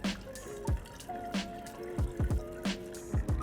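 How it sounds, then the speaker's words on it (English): Wort being poured and swirled over Spectrum liquid dry hop in a home brewing setup, with a close, continuous trickle broken by repeated drips and sloshing splashes at an uneven rhythm. "So you kind of let the wort stream kind of hit it and get it to break into solution"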